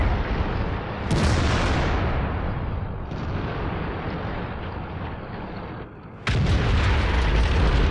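Heavy booming shot of a HESH round fired from the FV 4005 Stage II tank destroyer in World of Tanks, a loud blast near one second, a sustained rumbling battle roar, then a second sharp blast near six seconds.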